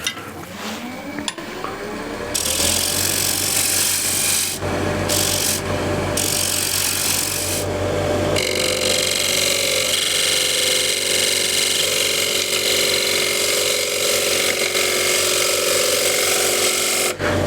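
A wooden tray being cut on a lathe, with the tool scraping the turning surface. A loud, continuous rasping sound is close by, and the spinning workpiece adds a low hum.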